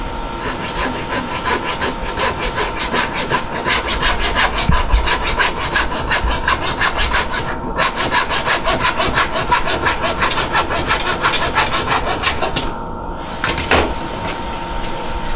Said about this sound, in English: I'm going to take a handy dandy hacksaw again, and I'm just going to cut it